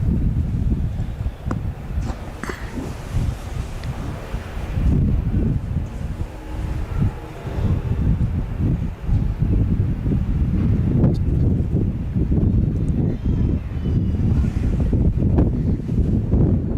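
Gusty wind buffets a microphone outdoors at a cattle competition, a steady low rumble rising and falling in strong bursts throughout, with no speech over it.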